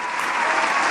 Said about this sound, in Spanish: Fuerte el aplauso para Cami.